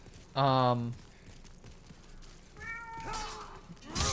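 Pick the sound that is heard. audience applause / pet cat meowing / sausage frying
pet cat meowing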